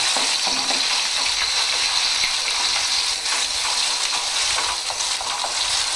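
Onion paste fries in a pan for a Bengali chana masala, a steady broadband sizzle with faint scraping strokes of stirring running throughout, close and fairly loud, no voices.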